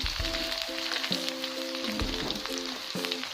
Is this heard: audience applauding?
no